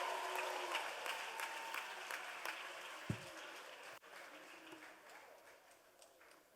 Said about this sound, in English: Let's clap it up one more time for the worship team.